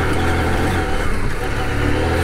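A CF Moto 800MT motorcycle engine climbing an off-road hill, a close, loud, steady engine drone held under load throughout.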